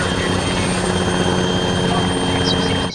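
Independent-faction military helicopter from the base game of Arma 3, its rotor and engine droning loud and steady throughout, with a voice talking over it.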